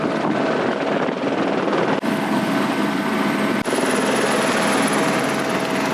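Helicopter used for heli skiing in snowy mountains, its rotor and turbine roaring loudly and continuously up close, a dense steady thrum with brief dips, no talk.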